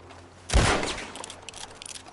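A single loud gunshot in Red Dead Redemption 2 aimed at a prisoner in a cage, a sharp burst that decays over about half a second, then faint scattered ambient sounds.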